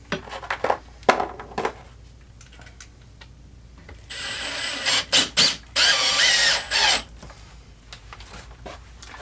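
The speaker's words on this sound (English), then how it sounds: "you're going to want to make sure that you have your drill set so that it doesn't overturn and strip out the aluminum" A cordless power drill drives self-tapping hex screws into an aluminum pool fence gate, with several loud whirring bursts and brief pauses, close up after some light clanking of parts being handled.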